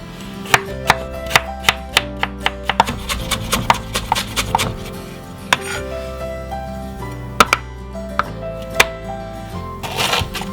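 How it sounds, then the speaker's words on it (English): A knife roughly chopping a piece of fresh ginger on a board, a steady run of close, crisp, irregular chops with brief pauses between bursts. "Cut yourself a 1-inch piece of ginger and just roughly chop it."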